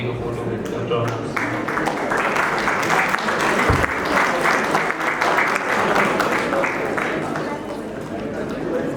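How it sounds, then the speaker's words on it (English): Audience at an alumni meet claps in a sustained round of applause, dense and steady for several seconds, with crowd chatter mixed underneath. "Big round of applause for"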